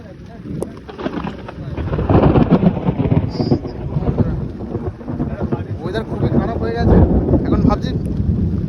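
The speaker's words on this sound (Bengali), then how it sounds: "খুব জোরে বৃষ্টি হচ্ছে আর ঝড়ও চলছে" Heavy rain and gusting storm wind roar steadily over a river while fishing for hilsa, with buffeting against the microphone and occasional voices under the storm noise.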